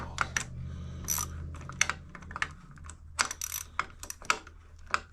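Metal bolts being fitted and tightened on a 1984 Yamaha Virago 1000 motorcycle, with close clicking, tapping and ratcheting sounds in irregular bursts over a low hum.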